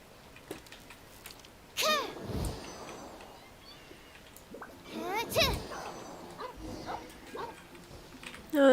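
Dog in the Genshin Impact video game barks and whimpers in two bursts of yelping, whining calls, fairly close over quiet game background, with a further brief yip near the end.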